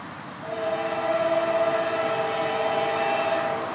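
A train rolls southbound along the A&WP railroad at a junction, a steady rumbling pass with sustained tonal horn-like notes held for several seconds, fairly close and loud throughout.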